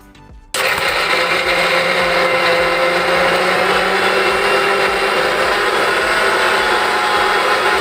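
A mixer grinder switches on abruptly and whirs loudly and steadily as it grinds edible gum (gond), a constant high-pitched motor drone close by with no talk.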